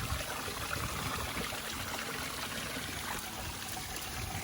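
Water and gravel slosh steadily out of the tray of a Little Red trommel during a gold-prospecting test, a continuous trickling, pouring wash that is fairly faint and carries on without a break.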